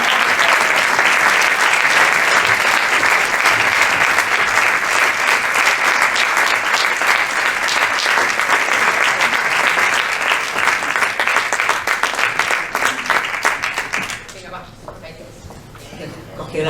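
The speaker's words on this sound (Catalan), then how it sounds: "Y ahora, torneo a aplaudir," Long, loud audience applause at a film festival session, thick continuous clapping for about fourteen seconds before dropping away to quiet room sound.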